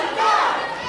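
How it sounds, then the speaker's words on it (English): A wrestling crowd at a live UPW match in Alvin, Texas, roars and shouts in unison, a loud, sustained wall of voices with a chant-like swell through the whole second. "They're calling for the death of Johnny Blade"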